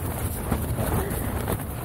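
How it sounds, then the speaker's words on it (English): Strong wind at a desert campsite in California's Gold Country buffets the microphone with a steady, loud rumbling roar, gusting slightly throughout with no voices. "It's still super windy."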